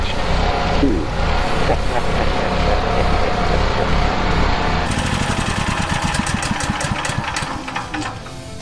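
A gasoline engine stored a year with non-ethanol fuel and stabilizer starts on the first pull and runs with a loud, rough, close chugging idle, ticking rapidly throughout, with a voice speaking partway through.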